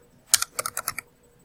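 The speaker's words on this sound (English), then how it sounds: "So let's say I'm going to type in total unit 1" Quick keystrokes on a computer keyboard, a short burst of about eight crisp clicks, close and clear against a quiet room.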